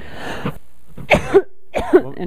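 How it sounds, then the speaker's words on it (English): Several separate coughs from a person with a persistent cough, sounding close and fairly loud in a quiet room, arriving in short bursts with pauses between them. "I'm sorry I have this cough."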